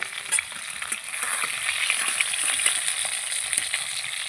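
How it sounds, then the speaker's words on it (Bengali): Tilapia pieces fry in hot oil in a kadai, giving a steady close sizzle with scattered crackles and a few louder spits; no one speaks. "লাল লাল করে ভেজে নিচ্ছি।"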